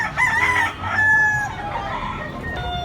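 A fighting cock of Sweater bloodline crows loudly and close by as it is weighed in Tabunok, Cebu, a single drawn-out cock-a-doodle-doo with faint background noise.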